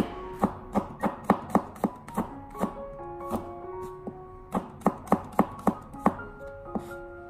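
A knife slices garlic cloves into thin slices on a cutting board, making crisp, evenly spaced taps in two quick runs of roughly a dozen strikes each, close up and alone.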